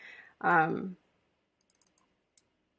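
A few faint, soft computer mouse clicks while editing a digital collage in Canva, spaced out after a short burst of talking and then a quiet stretch.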